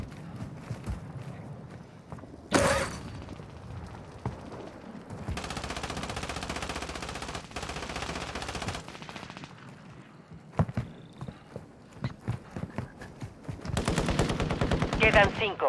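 Call of Duty: Warzone gunfire crackles in bursts, including a long sustained machine-gun stretch and scattered shots, mixed with game effects and brief voices.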